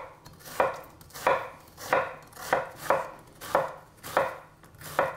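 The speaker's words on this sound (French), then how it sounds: "On va couper l'oignon." A knife chops an onion on a board in slow, even strokes, eight crisp close thuds spaced roughly every two-thirds of a second, with no talk.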